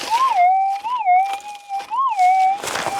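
Metal detector (6000 model) sweeping over a target in a hard rock mine, giving a sharp warbling tone that rises and falls several times in a row, clear and close with a faint rustle underneath.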